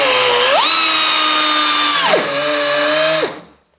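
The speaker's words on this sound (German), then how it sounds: "Da gehen wir dann einfach mit unserem Dremel rein hier." An air-powered Dremel cuts a square hole into a Porsche Cayman 987 bumper, a loud, steady high-pitched whine that shifts pitch as the tool meets the plastic, then drops and winds down at the end.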